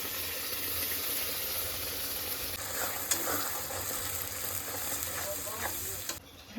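Steady sizzling of onions and spice paste frying in a pan, with occasional stirring scrapes and clicks and a faint hiss throughout.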